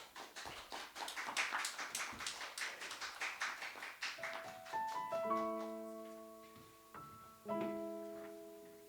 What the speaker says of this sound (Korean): 나올 때 큰 박수로 환영하겠습니다.